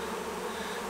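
A steady, close droning buzz of honey bees at a hive, dense and continuous with no pauses.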